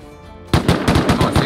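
Gunfire in a first-person shooter video game, a rapid burst of loud, punchy shots in quick succession after a near-silent moment, ending in the kill of an enemy player.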